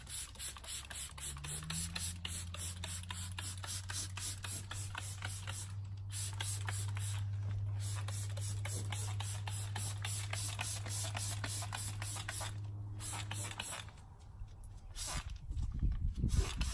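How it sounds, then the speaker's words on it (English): Super Clean degreaser sprayed by hand from a trigger bottle onto a truck frame, leaf springs and suspension: rapid repeated spritzing pulses close by over a steady low engine-like hum, with brief pauses between bursts. "I'm gonna take my Super Clean and I'm gonna spray on everything"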